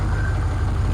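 LS V8 engine with side-draft injection idling just after its first start-up, a low steady rumble with a slightly uneven, rough beat, heard close and alone.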